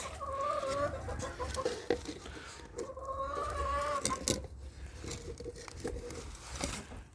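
Chickens cluck and call repeatedly close by, a backyard flock being fed lettuce alongside a pet named Fındık, with steady bird chatter and light rustling throughout.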